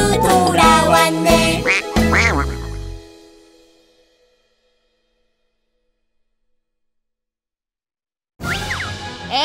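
In a Pororo children's cartoon song, a singing voice imitates a mother duck's quacks in a lively run of sung calls. The voice stops abruptly, falls silent for a few seconds, then more voices return.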